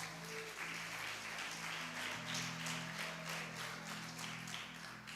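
Moderate clapping from a church congregation, steady and continuous, with a low hum beneath it.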